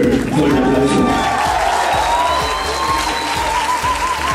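A crowd applauds and cheers for a cover musician at a radio station anniversary event. Continuous clapping and shouts sit over a pulsing bass beat of background music, and the applause stays loud throughout.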